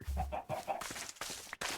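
Chickens clucking on a farm in a survival video game, a few quick close clucks followed by softer scratchy movement noises.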